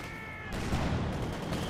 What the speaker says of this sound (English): Pushing them back there, mortars flying all over the place